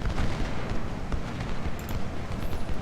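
Skirmishers' musket gunfire in the Civil War strategy game Ultimate General: Civil War, a dense, continuous rumble of overlapping shots and distant battle noise that stays loud throughout with no talking.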